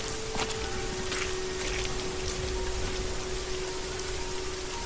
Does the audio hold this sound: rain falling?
yes